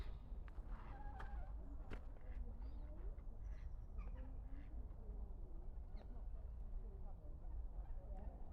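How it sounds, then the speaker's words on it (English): Birds calling on Wimbledon Common under an overcast sky, duck-like quacks and honks scattered at a distance over a low outdoor rumble, with faint talk at times. "But the bird sounds nice anyway."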